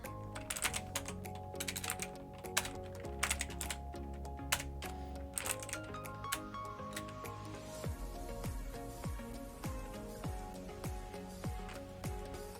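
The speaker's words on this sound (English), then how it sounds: "You don't have a mechanical keyboard, Chaotic Knight?" Rapid typing on a mechanical computer keyboard, close and fairly loud, with dense irregular clicks and clacks in bursts, the strokes thinning toward the end.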